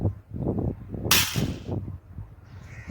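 A Diwali toy gun fires once with a sharp, bright crack partway through, heard over muffled handling noise and background murmur.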